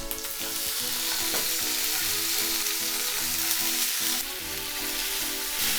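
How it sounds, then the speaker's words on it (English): Meat fries with ginger and garlic in sesame oil, a loud continuous sizzle close up, broken by the scrape and clatter of stirring throughout. "And then right away we're going to put in the meat."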